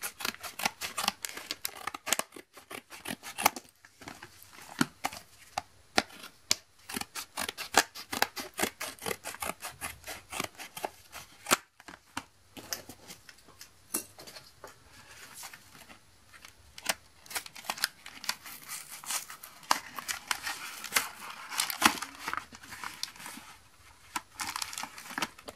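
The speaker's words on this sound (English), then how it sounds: "we shall cut into this one. I'm going to cut through all of them to save time" Scissors snip repeatedly through the foil wrappers of Pokémon card booster packs from a Guardians Rising booster box, a dense, steady run of sharp close cuts with crinkling plastic and no talk.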